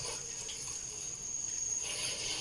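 Running water from a tap while food is washed in a kitchen, a steady soft hiss of flowing water with slight splashing, close and continuous.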